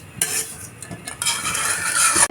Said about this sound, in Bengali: সেমাইটা ভাজা হয়ে গেছে।